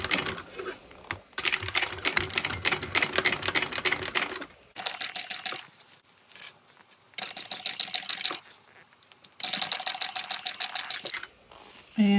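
A sewing machine stitches a seam on a Park Mini Backpack in several fast, rhythmic runs, starting and stopping with brief pauses between bursts, close and clear.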